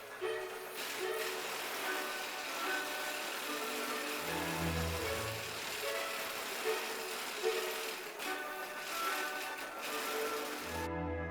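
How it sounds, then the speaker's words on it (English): Inside a wooden shoe workshop, a German-made steam engine runs steadily with rhythmic mechanical chugging and clatter at moderate distance, low and continuous throughout. "The steam engine was actually made in Germany and imported to the shoe shop."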